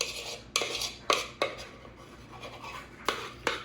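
A spoon scrapes around a mixing bowl of whipped dalgona coffee in several short, irregular strokes, each a brief clattery scrape close up, with quiet pauses between.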